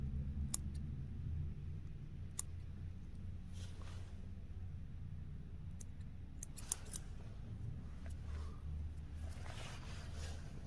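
Sharp scissors snip moose hair butts close to a fly tying hook, a handful of crisp isolated cuts spread across a low steady background hum, near and clear with no talking.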